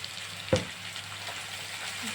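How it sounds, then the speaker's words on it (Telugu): Ivy gourd pieces fry in a pan with a soft, steady sizzle, marked by a single sharp clink early on. "దొండకాయ ముక్కలు వేగుతాయి"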